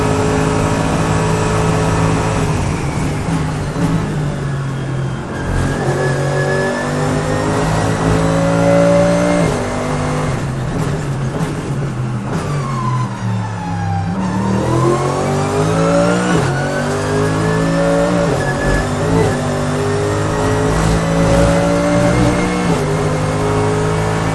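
A Mercedes-AMG GT3 race car on a lap of Portimao's Autodromo Algarve, its engine loud and close, revving up through the gears with rising pitch sweeps and a dip and climb as it shifts.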